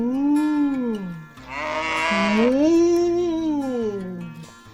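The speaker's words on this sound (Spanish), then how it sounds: "Y ahora, por último, tenemos a la vaca. La señora vaca." Cow mooing, two long drawn-out low calls with rising and falling pitch, loud and close, separated by a brief breathy noisy burst, with no talk over them.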